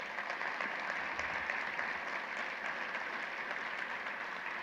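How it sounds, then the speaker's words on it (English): Applause from a conference general-session audience, steady and dense throughout, a broad wash of many hands clapping at moderate distance with no voices over it. "Let's give Elena a round of applause."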